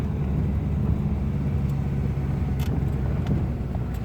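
Steady Citroën C-Elysée engine rumble, fairly loud and continuous, with the low drone of the car turning slowly on a village street.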